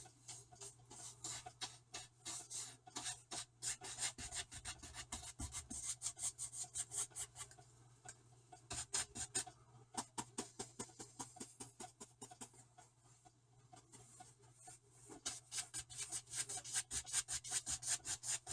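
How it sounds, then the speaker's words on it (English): A 2-inch brush loaded with acrylic paint scrubs across a canvas sky in crisscross X strokes, producing a steady run of close, rhythmic rasping swishes that pause briefly midway. "Using basically an X motion, crisscross pattern here, fill in the sky."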